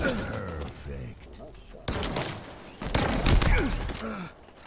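Repeated video game gunshots in Vermintide or Halo Infinite, several loud bursts spread across a few seconds, mixed with voices talking over game noise.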